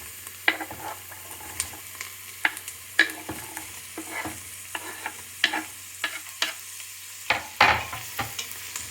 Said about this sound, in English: Well, first the onions, let them saute, and then a little bit the carrots.